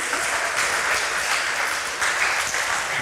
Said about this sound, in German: Bitte gebt uns jetzt den Applaus für die vierte Präsentation.